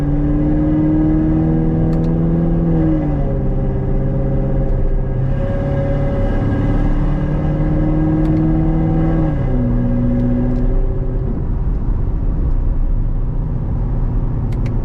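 A Chevrolet C7 Corvette Z51 drones steadily under acceleration from inside, its engine note climbing and then dropping as it shifts from first into second, then settling into a loud, even rumble.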